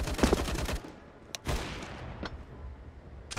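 Gunfire in Counter-Strike, a rapid burst of rifle shots at the start followed by a few sharp single cracks, loud and close, with no talking.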